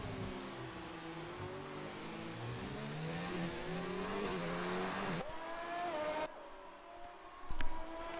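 Several racing cars in an F2 video game race at Italy scream past together, engine notes rising and shifting in pitch as they jostle in traffic, steady and fairly loud throughout, with a quieter stretch near the end and a brief tire-squeal-like spike.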